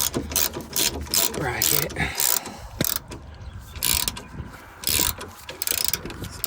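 Ratchet wrench tightening a rear shock bolt on a Honda Civic, 2015-2022 generation, heard as bursts of quick clicking pulls separated by short pauses, close up, with brief speech mixed in.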